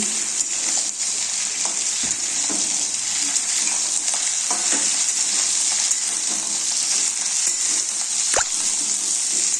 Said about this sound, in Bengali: বেগুন মূলো এবার নেড়ে চেড়ে নিচ্ছি